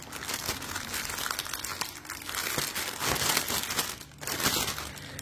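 Close crinkling and rustling of packaging with adhesive tape being handled during an unboxing, continuous crackly sounds with small tearing noises, no talking.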